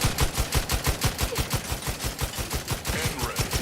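Rapid automatic gunfire from a weapon in The Outer Worlds 2, a steady stream of evenly spaced loud shots with no pauses, fired close up.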